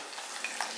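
Chopped ginger sizzles and is stirred in a hot pan on low flame for an apple curry. The crackling is brief, steady and close, with a couple of sharper pops.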